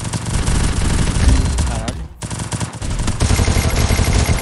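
Rapid automatic gunfire bursts in the battle-royale shooter Free Fire during a 4v4 match, dense and loud with a brief gap midway, then steady repeated shots resume.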